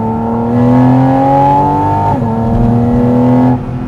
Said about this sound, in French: c'est dingue, hein, le son de l'admi derrière et tout, c'est fou.